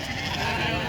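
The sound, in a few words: sheep bleating at livestock market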